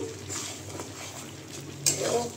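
A spatula stirs mutton braising in a pan, scraping and shuffling against the metal over a low sizzle, with one sharper clink near the end, close by.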